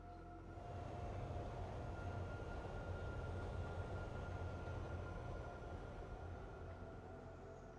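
A coal train led by a small switcher locomotive in Cities Skylines rolls past as a faint, steady low rumble with a hum, swelling in after the first half second and holding evenly.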